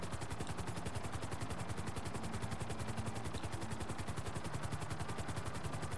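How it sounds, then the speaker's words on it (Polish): A helicopter flying in Grand Theft Auto V, its rotor beating in a fast, steady chop over a loud continuous engine roar, heard close and alone for the whole stretch. "A zajebisty ten śmigłowiec."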